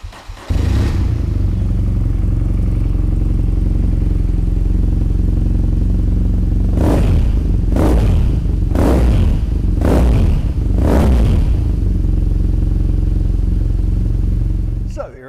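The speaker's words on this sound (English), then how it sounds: "So let's fire this one up and have a listen." A BMW R nineT motorcycle engine idles steadily with a low rumble, then is revved sharply five times in quick succession before settling back to idle.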